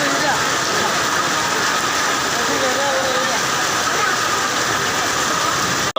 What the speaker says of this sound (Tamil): பன்ருட்டி பகுதியில் பயங்கர கனமழை பெய்து கொண்டிருக்கிறது